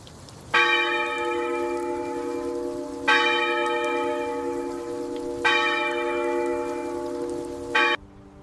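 A school bell for afternoon class rings out in three long, resonant tolls, each ringing on for a couple of seconds before the next strike, clear and fairly close.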